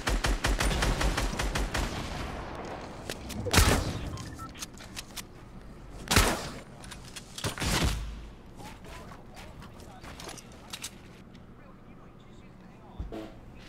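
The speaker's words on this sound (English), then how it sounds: "Rose, use the AR, dude." Assault rifle fire in Fortnite, a dense rattling burst at the start followed by scattered single shots and a few louder blasts, with players talking over the action.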